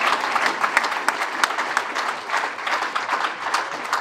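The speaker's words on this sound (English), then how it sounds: "a round of applause for her" A steady wash of audience applause fills a fans forum evening, dense continuous clapping from a sizeable indoor crowd with a few sharper individual claps standing out.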